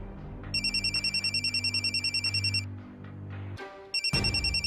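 A telephone rings with an incoming call, repeated bursts of bright electronic trilling over a low background hum, breaking off briefly before ringing again.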